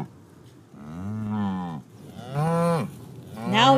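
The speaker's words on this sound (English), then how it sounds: "And then, of course, cows." Cattle on a farm give three loud, close moos one after another. Each is a deep, drawn-out low with a rising, voice-like tone, and brief gaps separate them.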